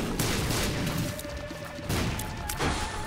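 Flaming tears in The Binding of Isaac: Afterbirth+ bursting into explosions on impact, a rapid cluster of booming, crackling blasts with heavier thumps near the start, middle and end, loud and alone.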